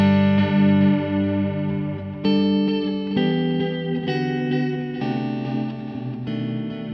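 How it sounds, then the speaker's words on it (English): Sustained guitar tones pass through a JHS Pink Panther delay pedal on its second modulation setting, their pitch wobbling and warbling with strong wow and flutter. "You can hear more extreme pitch changes, so more like wow and flutter basically"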